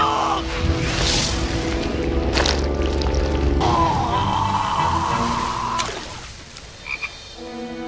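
A toad croaks in an anime scene from JoJo's Bizarre Adventure, loud and close, with steady music and dramatic sound beneath it; the scene grows quieter near the end with a few brief sharp blips.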